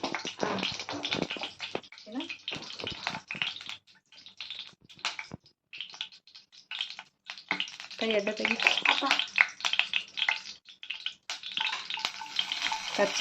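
Mustard seeds crackle and sputter in four tablespoons of hot oil while tempering for Andhra tomato tamarind rasam, a dense run of sizzling pops lasting throughout, with brief quieter gaps and a second burst of frying.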